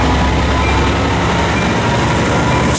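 A loud, continuous rumble of train 462 departing Fullerton station, with rolling rail noise, close by and steady throughout.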